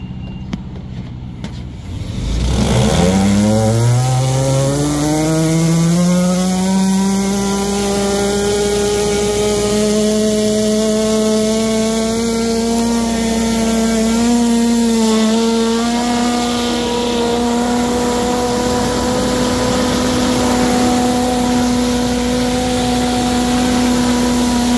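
A 13-horsepower high-pressure washer starts up at about two seconds and settles into a loud, steady engine drone with a whining pump tone while spraying through a turbo nozzle, running continuously with no talk.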